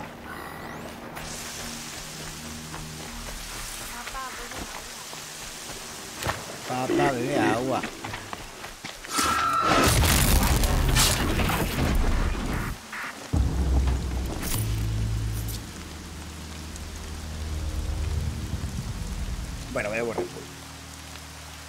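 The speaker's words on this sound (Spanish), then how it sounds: "La lluvia suena como si fuera un redoble de tambor." Rain falls in the game Horizon Zero Dawn, a steady hissing patter mixed with louder bursts of in-game effects, while people talk briefly over it.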